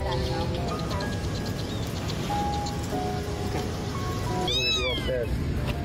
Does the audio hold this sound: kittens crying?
yes